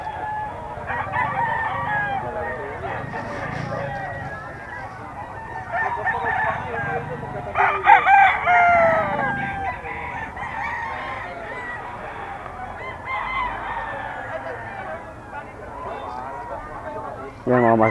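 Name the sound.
young gamecock (stag) crowing at a rooster sale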